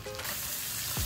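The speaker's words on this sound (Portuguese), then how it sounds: "E vamos deixar fritar aqui um pouquinho a cebola, dar uma douradinha no alho." Chopped onion and garlic sizzle steadily in a pan with bacon and calabresa sausage, a close, continuous frying hiss ending in a quick scrape.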